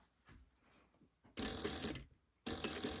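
A sewing machine stitches a laptop bag in two short, loud bursts of rapid mechanical whirring, separated by a brief pause and preceded by faint handling sounds, close up and quiet overall.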